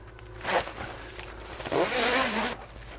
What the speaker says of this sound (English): It's a good chunky zip.